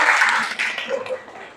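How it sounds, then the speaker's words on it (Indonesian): A group in a classroom applauds, a brief burst of dense clapping that thins and fades over under two seconds, with voices mixed in. "Tepuk tangan dulu untuk kelompoknya."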